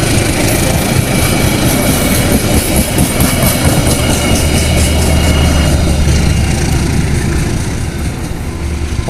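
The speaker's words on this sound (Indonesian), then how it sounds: "di bawah ada kereta lokal Bandung Raya yang baru melaju dari stasiun Gadu Bangkong tuh" Bandung Raya local commuter train leaving Gadu Bangkong station and heading toward Padalarang passes close by, with a loud, continuous rolling roar and rail noise lasting throughout, and no speech.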